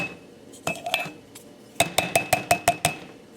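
A small container set into a pan of water, giving a few scattered clinks followed by a quick run of sharp, ringing taps against the pan, close and clear.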